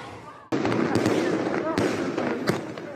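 Gunshots and explosions during violent street clashes in the Grésy district of Dijon: a loud sudden blast is followed by a roaring noisy backdrop punctuated by several sharp bangs.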